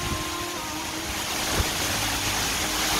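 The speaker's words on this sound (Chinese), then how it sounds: "这瀑布很漂亮，然后又有一个大平台可以玩水" Rushing water from a waterfall in Shizi Township, Pingtung, a steady broadband roar of falling water that stays constant and fairly loud throughout, with no voices.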